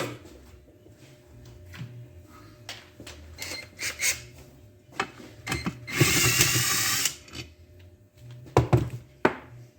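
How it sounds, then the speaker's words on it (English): A power tool with a socket working a bolt on the transmission of a 1976 Dodge D100 truck, a burst of whirring rattle surrounded by scattered clanks and thunks of metal tools, close and fairly loud, without talk. "I gotta get a socket to get this darn bolt out."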